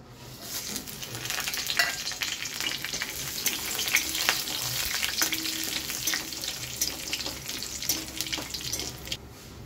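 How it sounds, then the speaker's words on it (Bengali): Bay leaf, dry red chilli, cumin, cinnamon and cardamom crackle and sizzle in hot oil in a pan, a steady bright frying hiss with small pops throughout, close and continuous, no voices. "এবার দিয়ে দেব কিছু ফোড়ন, তেজপাতা, শুকনো লঙ্কা, জিরা, এখানে আছে দারচিনি আর এলাচ"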